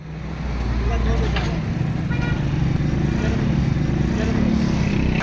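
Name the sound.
road traffic in a market area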